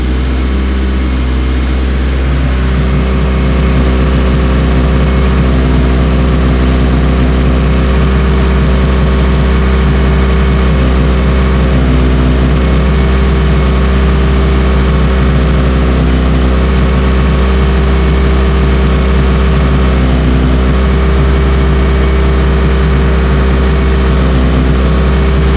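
A car engine idles steadily and loudly throughout, a smooth constant hum with no revving, during a smoke-machine vacuum leak test.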